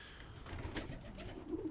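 Soft coos of white pigeons over a steady background hiss, continuous and fairly faint, with no talking, on a foggy day.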